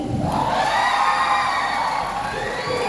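A pageant audience at Miss Palawan Universe 2022 bursts into loud, sustained cheering and applause after a contestant's answer, a thick crowd roar with shrill whoops and screams, close and continuous throughout.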